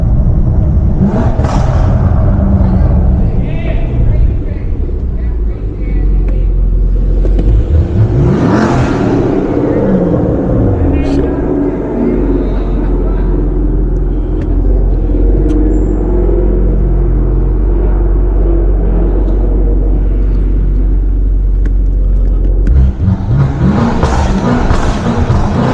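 A 640 hp BMW M550i driven hard on a late-night street, its engine rumbling loudly and surging through repeated hard pulls with a deep exhaust roar, heard close from the driver's seat.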